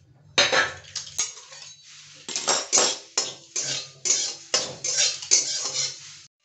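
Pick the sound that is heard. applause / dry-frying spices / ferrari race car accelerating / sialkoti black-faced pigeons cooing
dry-frying spices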